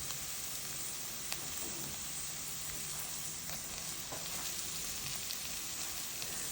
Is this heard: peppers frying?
yes